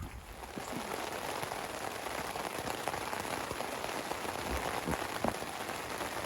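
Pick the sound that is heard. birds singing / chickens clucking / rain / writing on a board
rain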